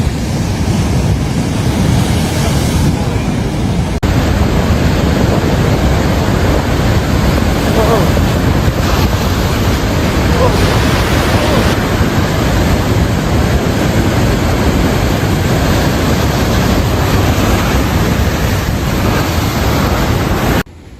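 Huge surf of roughly 28 to 33 feet pounding the California coast near Santa Barbara and San Luis Obispo, a loud, continuous roar of breaking water with wind buffeting the microphone throughout.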